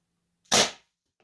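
A homemade air-powered nerf gun fires a single sharp, loud pneumatic pop with a brief hissing tail, close by in an otherwise quiet space.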